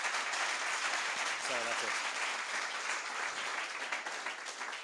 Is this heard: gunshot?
no